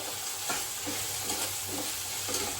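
Okra stir-fries in a pan for a spiced no-onion, no-garlic masala bhindi, a steady sizzle broken by a few soft scraping strokes of a spatula, close and moderately quiet with no talking.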